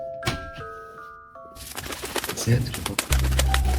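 A bird coos inside a home bathroom in Germany. Brief, soft calls mix with rustling and a chime-like tone, and a person speaks briefly nearby.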